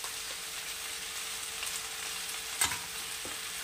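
Ginger and green chili paste frying in a pan and stirred for a restaurant-style mixed vegetable dish; a steady sizzle runs throughout, punctuated by a few utensil scrapes and one sharper clank, without speech.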